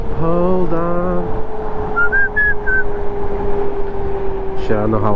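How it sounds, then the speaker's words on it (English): A loud whistle blown outdoors in Los Angeles during a scooter food-delivery ride, a short burst of tones near the start and another at the end, over constant wind and road noise, with a brief higher whistle in between. "I don't know how loud that whistle will be for you guys"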